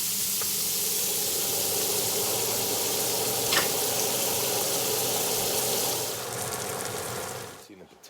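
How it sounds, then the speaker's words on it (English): Parmesan potatoes sizzle steadily in a cast iron pan, a loud, dense, even crackle that holds for most of the stretch before cutting off sharply near the end. "See the potatoes cooking there. They are getting a nice crisp on them."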